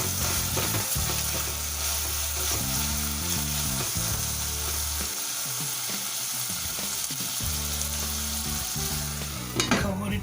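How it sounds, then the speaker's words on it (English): Tomatoes frying on high flame for chicken biryani: a continuous sizzle with a recurring low rhythmic mechanical hum underneath, close and steady, with no voices. "On high flame I am going to fry them for a minute or so."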